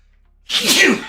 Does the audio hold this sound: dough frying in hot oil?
no